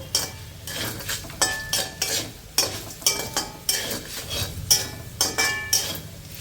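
A spoon stirs fried cumin and other tempering spices in a pan, making rhythmic scraping strokes about twice a second, close and fairly loud, with a faint sizzle underneath.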